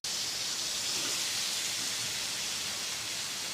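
Round-sliced potatoes dropped into frying fish masala set off a loud, steady, close sizzling hiss that fills the whole moment, with no voices.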